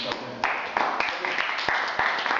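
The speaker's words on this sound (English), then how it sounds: "Let's clap for this" A small audience at a quick-mathematics lesson claps in a brief round of sharp, uneven hand claps, with speech mixed in over the top.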